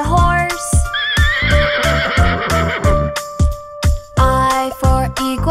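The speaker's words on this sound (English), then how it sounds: "H is for horse." A horse neighs loudly and close, a long wavering whinny over a rhythmic, repeating beat of music.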